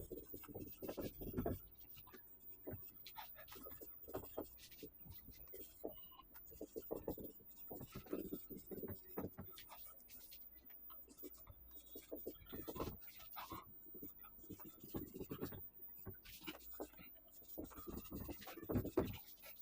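A teacher draws a figure and writes notes for a Class 12 physics lesson on spherical and cylindrical capacitors, giving a steady run of faint scratching and rubbing strokes, close and quiet, with no talk.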